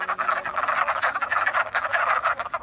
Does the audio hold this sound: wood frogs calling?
yes